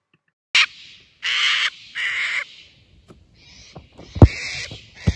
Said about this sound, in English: Shut up, you birds.